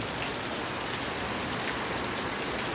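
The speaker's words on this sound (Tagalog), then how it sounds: "Lakas po ng ulan." A constant, loud downpour fills the air, thick rain hammering on surfaces without letup, and no one speaks.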